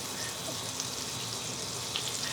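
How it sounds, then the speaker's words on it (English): About 40 grams of butter melting in a hot frying pan for Japanese curry, giving a steady, even sizzle with a light crackle throughout and no talking. "heat this frying pan and put about 3 tablespoons, about 40 grams of butter"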